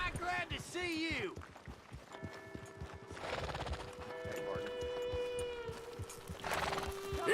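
A horse in Red Dead Redemption 2 gives a loud whinny, then hooves clip-clop at a walking pace beneath a sustained musical tone, with brief vocal-like bursts near the start and end.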